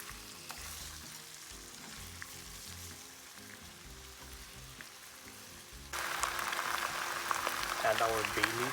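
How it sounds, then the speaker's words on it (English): Pig's trotters sear in a hot pan for Filipino pata tim, a steady crackling sizzle throughout that grows louder and brighter partway through as the meat is turned, with faint background noise. "Once the trotters are seared on one side, turn it over to brown the other side."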